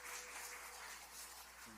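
Audience applause at a talk on education policy, a steady, dense patter of many hands clapping at moderate distance, fairly soft and continuing through the whole stretch without pause.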